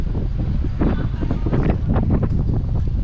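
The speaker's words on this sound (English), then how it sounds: "Really windy." Strong wind buffets the microphone at the Fremantle fishing boat harbour, a steady loud roaring rush with gusty swells throughout and no voices.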